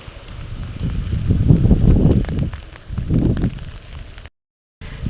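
Gusty typhoon wind sweeps across rice fields. Rumbling low buffets batter the microphone in uneven surges, then the sound drops out briefly before the gusting resumes.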